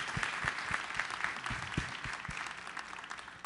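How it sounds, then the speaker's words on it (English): An audience at a summit gives a round of applause, a dense, steady patter of many hands clapping with a few sharper individual claps standing out, continuing at moderate level for the whole stretch. "let's give Gayle a round of applause"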